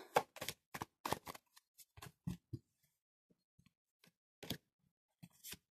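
Oracle cards from the Triad deck being shuffled by hand in quiet short riffling bursts, crisp paper flutters that stop and start with pauses of near silence between them.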